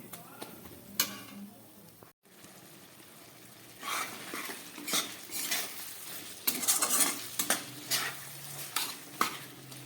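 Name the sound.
stirring soybean kosha in pan after adding spice water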